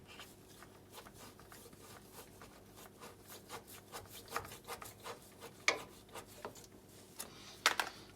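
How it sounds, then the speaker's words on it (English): A knife cuts and saws at a rubber tyre valve on an alloy wheel, producing quiet rubbing and scraping strokes in short irregular bursts with a few sharper snaps near the end. "the rubber valve, which you just use a knife and cut off"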